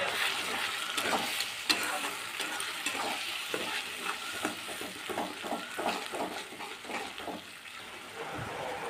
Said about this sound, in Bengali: এবারে মিডিয়াম টু লো ফ্লেমে মশলাটা নেড়েচেড়ে খুব ভালোভাবে কষিয়ে নেব